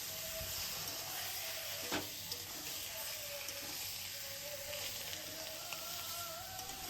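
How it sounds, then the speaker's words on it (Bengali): Mutton sizzles faintly in a little oil with a bay leaf and a whole dried chilli, giving a soft, steady hiss with a brief stirring clatter near the start. "এবার যে বাকি অল্প তেলটা রয়েছে সেই অল্প তেলেই মাটন দিয়ে দেব"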